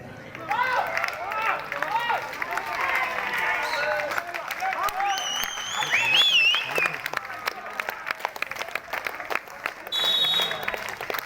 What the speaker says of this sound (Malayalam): കൈയടിച്ചു തന്നെ സ്വീകരിച്ച്